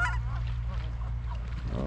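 Black-headed geese honking outdoors in snowy weather, several repeated nasal honks over a low steady background hum, fairly close, with no talk.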